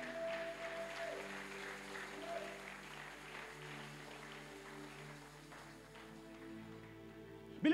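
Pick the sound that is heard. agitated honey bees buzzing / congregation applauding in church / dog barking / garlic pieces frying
congregation applauding in church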